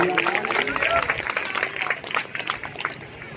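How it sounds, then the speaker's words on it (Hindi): Church congregation applauding during a Hindi sermon, a steady wash of clapping with voices and a sung or called-out tone mixed in, fairly close and sustained throughout. "परमेश्वर के नाम को सब जन महिमा दें तालियों के साथ।"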